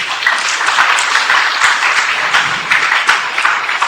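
An audience at a certificate-distribution ceremony in Aurangabad, India applauds for the honoured doctors, a continuous crackle of many hands clapping at close range, steady and full throughout.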